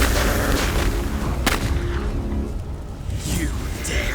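Heavy artillery guns open fire in a battle scene, deep booming blasts and rumbling explosions dense and loud, with a voice shouting over the barrage.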